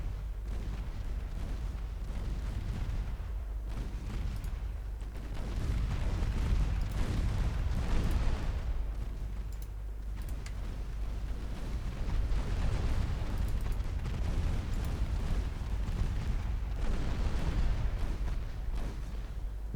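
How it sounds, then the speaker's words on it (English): Naval guns firing on an enemy cruiser in the Ultimate Admiral Dreadnoughts game, a continuous rumble of heavy booms and distant blasts rolling and overlapping for about twenty seconds, with louder salvos swelling at intervals. "all guns on the closest enemy cruiser."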